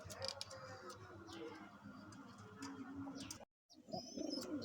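Dhaka Giribaz pigeons coo in low, rolling calls over a busy, noisy background, with a brief dropout near the end before the cooing resumes.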